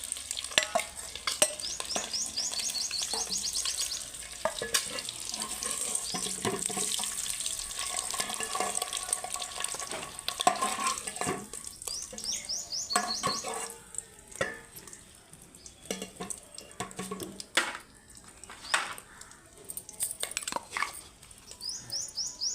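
Eggs frying in oil with turmeric until golden, giving a steady close sizzle under repeated stirring and scraping of a utensil in the pan, continuous throughout with no speech.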